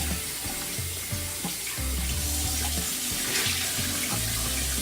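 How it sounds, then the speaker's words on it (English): Water runs steadily from a bathroom tap while someone rinses off after shaving their head, a continuous close splashing stream with no talking. "Go ahead and rinse off."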